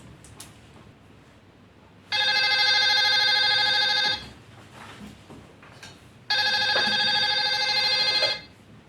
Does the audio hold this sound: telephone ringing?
yes